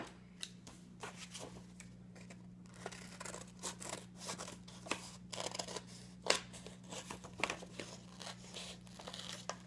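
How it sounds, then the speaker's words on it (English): Scissors cutting a heart outline out of paper, a rapid series of close, crisp snips and rustles over a low steady hum. "So now you have your outline, you're going to cut that out."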